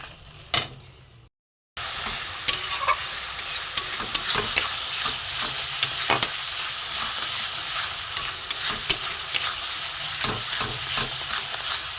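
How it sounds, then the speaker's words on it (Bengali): A ground spice paste of chilli, turmeric, cumin, coriander and garam masala powders sizzles and fries steadily in oil in a pan, with scattered stirring clicks and scrapes over a continuous close, loud hiss after a brief opening pause. "লঙ্কা গুঁড়ো হলুদ গুঁড়ো জিরে ধনে গুঁড়ো আর গরম মশলার গুঁড়ো আমি এইটা এতে দিয়ে দেবো দিয়ে আমি কষবো"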